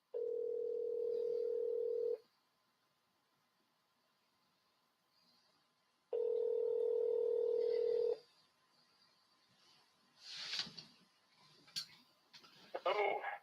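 Landline telephone dial tone sounding in two steady two-second bursts with a pause between, followed by a quick run of number-dialing tones and some clicks, placed for a call about coal stoves.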